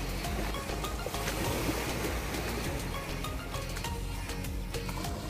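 Ocean waves wash steadily against the seashore at The Mark Resort in Mactan Cebu at dawn, a continuous broad rushing surf close by with no talking.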